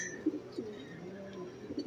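Racing pigeons cooing close by, soft low throaty coos rising in a few brief bursts over a quiet background, with no talking.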